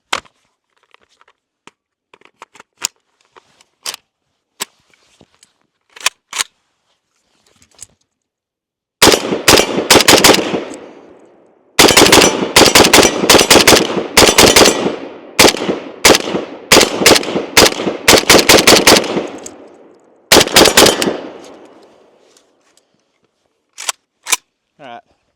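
A Zastava M72 RPK machine gun empties a full magazine in loud, close bursts of rapid automatic fire, preceded by scattered handling clicks and followed by a few quiet mechanical clicks.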